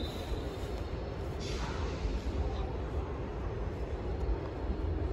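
Italian passenger train on the line between Bologna and Milan, a steady low rumble of rolling wagons with faint rail hiss and a brief high squeal, continuous and fairly quiet throughout.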